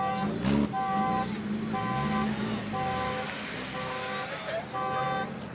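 Cars gathered at a local car meet, with repeated tooting car horns sounding in a rhythmic series over the background rumble of engines and traffic, moderately loud and fairly close.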